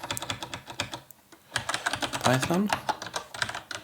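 Rapid typing of code on a computer keyboard, a dense run of clicking keystrokes with a brief pause, heard under a man's speech partway through.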